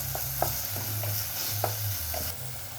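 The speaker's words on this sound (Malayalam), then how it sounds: "ഇനി ടൊമാറ്റോ ഇട്ട് നല്ലോണം വഴറ്റുക." Chopped tomatoes for dal fry sautéed in a hot pan, giving a steady close sizzle with soft scraping stir strokes recurring every second or so, no voices.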